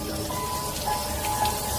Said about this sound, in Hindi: तभी अचानक एकदम से बारिश शुरू हो जाती है।